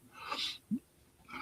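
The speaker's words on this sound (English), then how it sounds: "going to sneeze again." A single sneeze with a breathy high-pitched burst and a short sharp snap, followed by quiet breathing; close and moderately loud, no talking.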